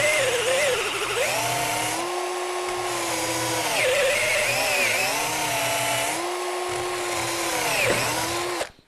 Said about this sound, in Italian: di forare ce la fa, il trapano ce l'ha la forza